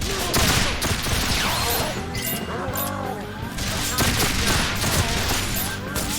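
Rapid, dense gunfire from a PS5 video game, loud and continuous bursts with crashes over about six seconds, with no talking.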